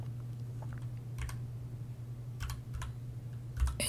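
Typing on a staggered-layout computer keyboard comes as scattered short clusters of key clicks over a low steady hum, fairly quiet and close.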